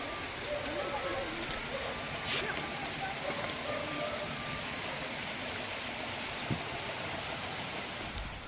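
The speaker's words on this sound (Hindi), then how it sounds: "अचानक से देखो कितनी बारिश आ गई।" Sudden heavy rain pouring down outdoors, a dense, even hiss of falling water heard from under cover, fairly soft and continuous with no clear speech.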